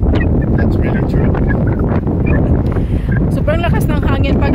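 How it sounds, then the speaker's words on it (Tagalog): Strong wind buffets a microphone outdoors near a pond in Japan, a loud continuous low roar with gusting rustle throughout, with faint voices and a brief tonal sound near the end. "Sobrang lakas ng hangin."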